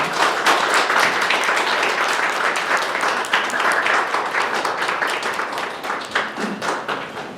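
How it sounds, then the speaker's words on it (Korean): Audience applause at a press conference as exhibition staff and the artist walk in, dense clapping from a sizable crowd, loud and sustained before tapering slightly. "큰 박수로 맞아주시면 감사하겠습니다"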